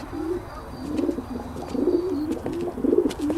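A pigeon coos repeatedly in the video game L.A. Noire, soft rolling calls in a steady rhythm over quiet background ambience.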